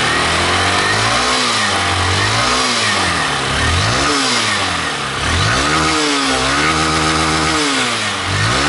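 A Honda Titan 160 motorcycle engine revs repeatedly, rising and falling in pitch as the throttle is blipped, loud and close with a steady buzzing idle between revs and no talking.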